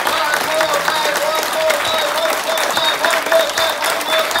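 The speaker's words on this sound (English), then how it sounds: "why don't we give a big round of applause for the next 30 seconds" Loud, dense audience applause at a motivational team event, continuous clapping with scattered cheers and voices mixed in, sustained at full strength throughout.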